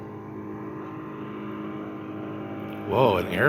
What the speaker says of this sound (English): Whoa, an airplane flying that low?